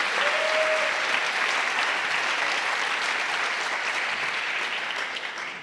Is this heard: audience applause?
yes